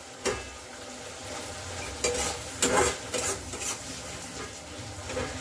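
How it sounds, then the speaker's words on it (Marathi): Steady sizzling of a spice tempering in a hot pan with a spoon stirring and scraping, a few sharp clinks of metal against the pan. No voices. "आता आपण हे हलवून घेऊया आपली फोडणी छान बसलेली आहे"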